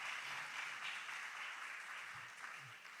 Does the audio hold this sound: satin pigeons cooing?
no